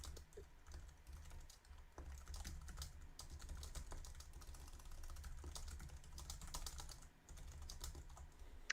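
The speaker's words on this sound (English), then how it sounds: "Why are you typing?" Rapid, irregular keystrokes on a computer keyboard click close by and faintly, a steady patter of taps with brief pauses, no voices over them.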